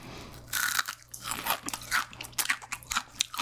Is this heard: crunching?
yes